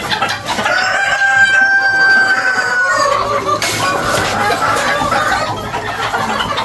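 Chickens and silkie fowl on a farm: a rooster crows clearly and close, followed by continuous clucking and fowl calls around, with a sharp squawk midway.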